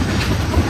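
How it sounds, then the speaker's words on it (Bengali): A train arriving at a station, a brief close rumble of rolling wheels and rail clatter, loud and steady, with no voices. "ট্রেন চলে আসছে একটা"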